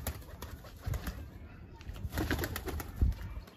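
White pigeons cooing softly amid faint background rustling and a few low thumps, with occasional murmured voices at a distance.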